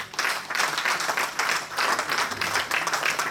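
A church congregation applauds steadily throughout, a dense wash of many hands clapping at once, with a few rhythmic swells in the clapping and no voices standing out above it.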